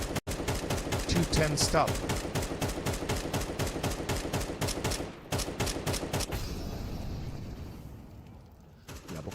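Rapid automatic wall-bang gunfire in a competitive shooter game, a long fast string of evenly spaced loud shots that breaks off, resumes briefly, then fades into quieter ambience as a caster speaks over it.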